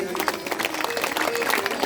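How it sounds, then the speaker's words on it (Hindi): A short burst of clapping comes from devotees at a Hindu religious discourse gathering in Ladnun, Rajasthan, after an offering is announced. It is a brief, busy patter of many hands at moderate loudness. "जोरदार ताली बजाएं।"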